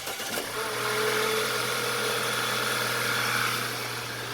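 2010 Audi A4 B8 2.0T engine just after starting, settling into a steady, even idle with a low hum and faint whine, continuous and close with no talk.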